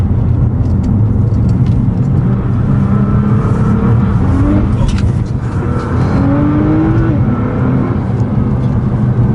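A Nissan R35 GT-R Recaro Edition accelerates hard along a road, its engine droning loud and close with rising rev sweeps as it pulls through the gears, steady cabin roar throughout.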